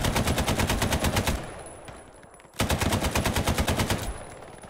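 Mounted machine gun firing in the World War II shooter Hell Let Loose, two long sustained bursts of fast, evenly paced loud shots separated by a brief lull with a fading echo.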